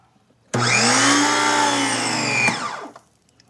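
An AVA Easy Plus P50 electric pressure washer motor whirs on abruptly at first startup and runs steadily with a rising whine, close and loud, then cuts off and spins down over about half a second.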